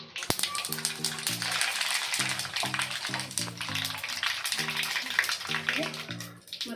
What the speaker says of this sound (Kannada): ಈಗ ಆಯಿಲ್ ಹೀಟಾಗಿದೆ ಅಲ್ಲ, ಈಗ ಸಾಸಿವೆ ಜೀರಿಗೆ ಹಾಕೋಣ ಫಸ್ಟು